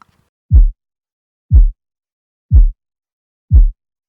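Four deep, thumping low-end hits, the isolated low punch layer of a designed silenced shotgun shot, land one second apart, each a short boomy punch with nothing else around them.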